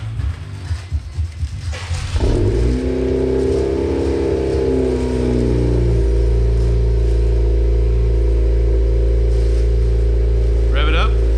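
An 11th gen Honda Civic with a new exhaust cold starts: a cranking engine catches at about two seconds and settles into a loud, steady, deep idle rumble, with brief voices near the end.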